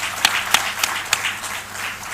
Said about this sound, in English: a huge round of applause for Sony Mishra